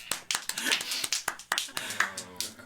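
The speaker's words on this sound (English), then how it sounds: "Let's keep clapping, guys." Scattered audience clapping in a small basement comedy room, with irregular sharp claps from a handful of people, moderately loud and close, and voices reacting in between.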